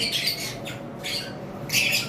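Pineapple conure parrots give harsh, shrill squawks in three separate bursts, moderately close and fairly loud over a quiet background, with no talking.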